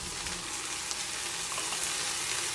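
Tomatoes are stirred into a hot pot with bay leaves, cinnamon sticks, garlic cloves and dried lemon for pigeon and rice, giving a dense, steady sizzle and frying hiss with faint stirring underneath.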